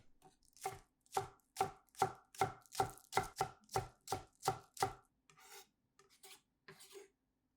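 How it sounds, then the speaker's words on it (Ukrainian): A knife slices garlic and chops green onion on a cutting board, giving about a dozen crisp, evenly spaced chops followed by a few softer, scattered cuts, close and alone. "Очистіть і наріжте тонкими скибочками чесник. Наріжте зелену цибулю."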